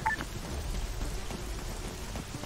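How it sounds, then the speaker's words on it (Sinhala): Rain begins falling in the ARMA 3 military video game, a steady soft patter and hiss with a brief tonal beep at the start, moderately loud and unaccompanied by talk. "ආහා වහින්න පටන් ගත්තා"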